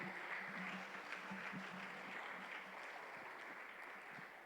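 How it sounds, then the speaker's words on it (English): Audience at an evening cultural night clapping after a performance, a faint, distant, continuous patter of applause with no speech over it. "Shall we give another round of applause"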